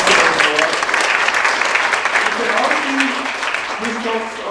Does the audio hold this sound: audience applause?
yes